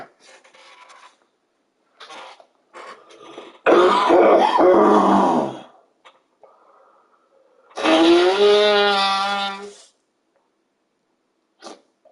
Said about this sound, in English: you wanted to hear me coughing and hacking